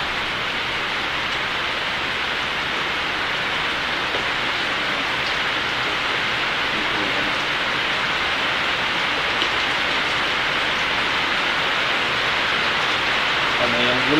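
Steady rain falls continuously as an even, close hiss with no breaks, unchanging in loudness throughout.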